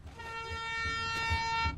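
Train horn blaring one steady, sustained toot with a rich stack of tones, fairly close and loud, over low rumbling thumps and no talk.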